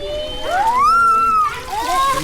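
Water poured from a bucket for bathing splashes and sloshes in short bursts, close and loud, while a person talks over it.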